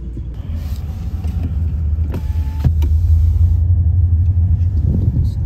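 Cars idling and creeping in a congested street jam near a carnival, a steady low engine rumble with passing vehicles and a brief whirring motor sound, continuous and fairly loud throughout.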